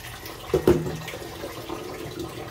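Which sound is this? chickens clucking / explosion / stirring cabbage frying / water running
water running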